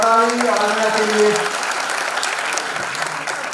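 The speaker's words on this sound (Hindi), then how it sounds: "तालियां के लिए।" An audience at the Nayii Udaan event claps steadily throughout, with a short sustained musical tone and a voice at the start.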